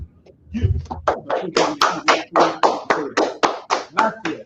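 A small group claps in a steady rhythm, about a dozen crisp, evenly spaced claps at roughly three per second, close and clear with nothing else over them.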